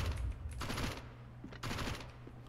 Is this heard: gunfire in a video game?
yes